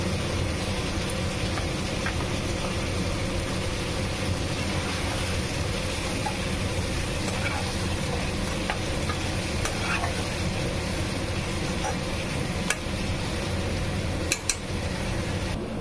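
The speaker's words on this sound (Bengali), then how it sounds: "এর মধ্যে দিয়ে দিব বেগুন কেটে রেখেছিলাম।" Cut eggplant with salt frying in an oil-filled pan, a loud continuous sizzle and crackle with faint stirring scrapes throughout, close and steady, no voices.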